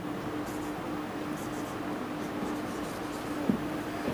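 Marker strokes on a board during a Hindi lesson on stock option trading, faint and scratchy under a steady room hiss, with one brief tap near the end.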